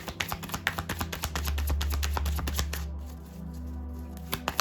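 Tarot cards being shuffled by hand, a rapid series of crisp riffling taps and flutters close by, then a steadier soft rustle before a few more sharp taps.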